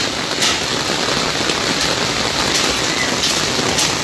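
Torrential rain mixed with hail in Arambagh drums in a constant dense roar, loud and close, with occasional sharper impacts flickering through the wash and no voices present.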